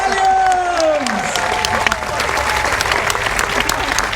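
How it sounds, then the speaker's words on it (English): Audience applause at a live comedy show, a dense steady wash of clapping from a crowd that swells as they welcome a performer, with a few brief voiced tones near the start. "Can I get you to start the applause at a 3?"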